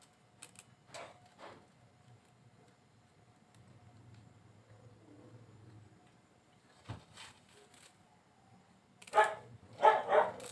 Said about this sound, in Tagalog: Ala, yung aso ko.